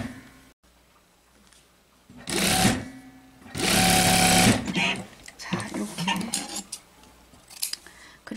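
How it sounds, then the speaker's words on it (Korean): A sewing machine stitches along the connected edge of summer jacket fabric for a shawl-collar jacket, with two loud bursts of running stitching and quieter handling between them. "원단하고 연결된 끝을 박으셔야 됩니다"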